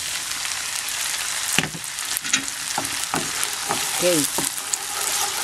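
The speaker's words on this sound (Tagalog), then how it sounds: "Haluin natin hanggang sa medyo mag-thicken siya ng konti." A butter and olive oil sauce for salmon steak sizzles in a pan while a utensil stirs it with a few scraping knocks, and a voice speaks briefly over the bubbling.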